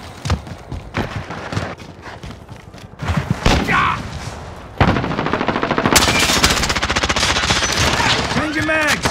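Automatic and single-shot gunfire in the Call of Duty: Modern Warfare multiplayer video game, loud rapid bursts running through most of the stretch with shouted voices over the shooting.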